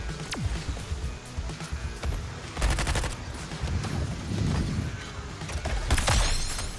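Video game gunfire: dense, continuous bursts of rapid shots and scattered single cracks from several directions, loud and busy throughout with layered rattling fire.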